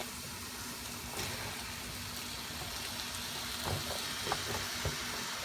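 Meat fries in a pan with diced tomatoes for Bicol Express, giving a faint, steady sizzle with a few soft stirring clinks and bubbles close by.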